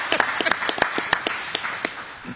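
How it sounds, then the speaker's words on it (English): Scattered handclaps from a small audience at a Kaulig Racing NASCAR Xfinity Series team announcement, a dozen or so sharp uneven claps over a light room murmur, fairly close and moderate in level. "Do we clap for you? Yeah, you clap."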